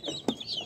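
Lohmann Brown hens clucking up close, a short burst of soft, rising cackling calls with one sharper cluck in the middle, no talk.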